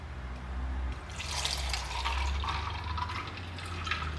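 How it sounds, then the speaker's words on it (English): Cold brew coffee pours into a glass in a home kitchen, a steady close liquid splash and trickle running for about three seconds with no talking. "And then I'm going to pour my coffee, my cold brew on there."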